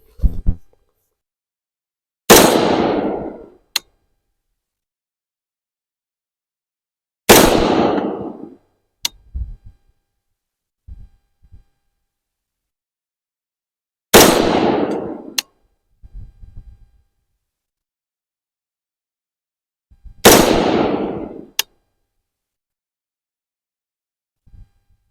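Four loud, sharp reports from a Palmetto State Armory Sabre 15 AR-15 with a 13.7-inch barrel firing PMC XTac M855 5.56 rounds, spaced several seconds apart, each followed by a short ringing tail and faint handling clicks between shots.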